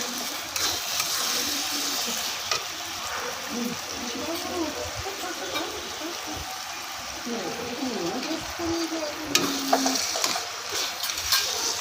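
Goat meat frying and being stirred in a pan, a continuous hissing sizzle with scraping stirs throughout, while someone talks over it now and then.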